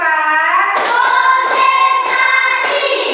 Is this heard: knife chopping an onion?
no